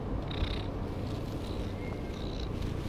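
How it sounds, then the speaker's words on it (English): A cat purrs steadily and close, a soft continuous rumbling with a few faint high chirps over it. "Purring is one of those behaviours that's familiar to all cat owners."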